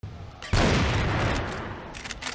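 Cannon fire in an online shooter match, one loud booming blast that bursts in suddenly and rolls off into a rumbling decay, with a few fainter impacts after it.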